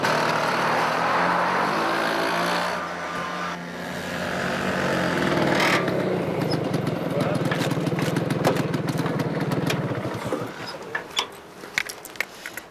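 A scooter engine drones steadily while riding, with a buzzing motor tone and wind under it. People talk over it, and the engine fades toward the end as clicks and handling noises take over.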